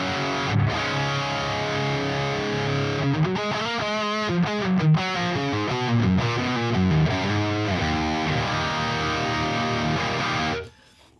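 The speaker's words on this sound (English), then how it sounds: "This is the default setting on the Neural DSP, and it sounds like this." Electric guitar through a Neural DSP amp plugin on its default setting plays a continuous distorted passage of chords and riffs for about ten seconds, loud and close, then stops abruptly, with no talking.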